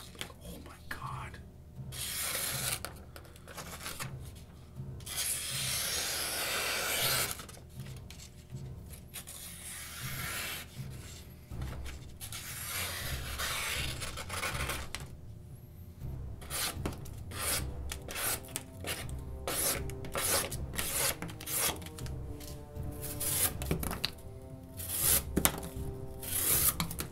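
Western Active Honey Badger knife slicing through material, a steady run of rasping, rubbing cuts with short scraping strokes, close and fairly quiet, with occasional sharper strokes toward the end and no talk.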